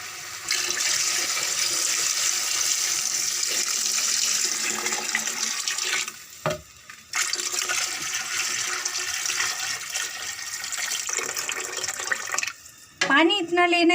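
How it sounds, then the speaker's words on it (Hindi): Water pours into a pot of rice and spices for biryani, a steady broadband splashing rush lasting most of the stretch, briefly broken once, with a short voiced sound near the end. "अब मैं इसके अंदर डालने वाली हूँ पानी।"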